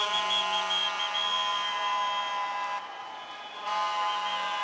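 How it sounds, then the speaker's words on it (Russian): Spectators at a children's sports games swimming event blow whistles and a vuvuzela, producing a loud, sustained shrill tone that holds steady for several seconds, dips briefly, then returns at full strength. "у зрителей плакаты, свистки и даже вувузела"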